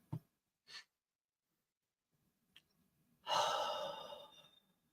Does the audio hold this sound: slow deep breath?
yes